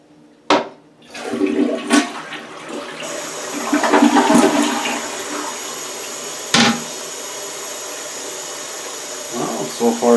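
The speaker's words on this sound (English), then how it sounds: "One more flush." A toilet flushes in a tiled-floor bathroom: a sharp clunk of the handle, then a loud rushing swirl of water that settles into a steady refill hiss, with a second clunk partway through and some faint voice.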